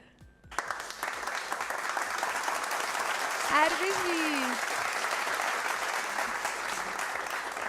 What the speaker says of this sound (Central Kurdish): کەواتە یەک چەپڵەی زۆر بەهێز